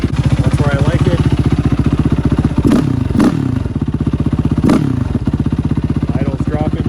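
A Yamaha YFZ450 ATV engine idles with no choke and no throttle after a manual idle adjustment. Its loud, close, steady rapid thumping is broken by a few sharp clattering knocks midway.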